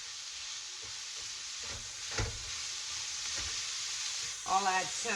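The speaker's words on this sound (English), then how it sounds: "I'm gonna put all this into some olive oil and cook it off" Vegetables for shepherd's pie sizzling in olive oil in a pan, a soft steady hiss with a few stirring knocks, and a brief voice near the end.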